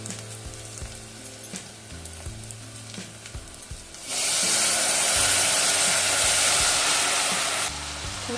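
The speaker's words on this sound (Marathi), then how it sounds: "आता भाजी फोडणीला देऊया।" Vegetables hit hot oil tempered with curry leaves and asafoetida, a few seconds of light sizzling and clatter erupting into a loud, dense hiss that holds steady before easing slightly at the end.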